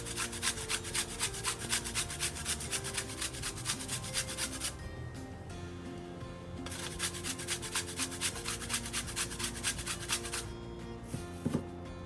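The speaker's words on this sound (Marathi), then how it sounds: "इथे बघू शकता मी छान किसून घेते की जेणेकरून छान तो बारीक होईल" Jaggery being grated by hand for peanut laddoos, a continuous close rasping with fast regular strokes, broken by two brief pauses, fairly loud and alone with no talking.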